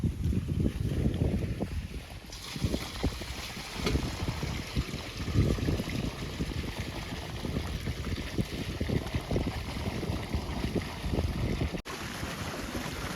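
Water rushes and gurgles steadily nearby as it flows into a farm field channel, a continuous low turbulent flow with some wind noise over it.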